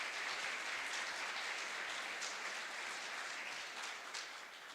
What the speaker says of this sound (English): a round of applause to all the speakers from both this morning's sessions